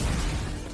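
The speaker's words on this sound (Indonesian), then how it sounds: "secara bersamaan gereja pun akhirnya meledak" A church blows up in a Korean action film: a short, dense burst of broadband rumble and roar that fades slightly over under a second.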